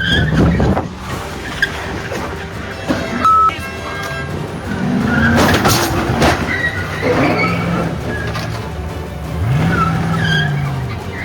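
A Mustang is driven aggressively and loudly, its engine surging under repeated tyre skids and squeals. Road noise, clunks and tonal screeches overlap throughout.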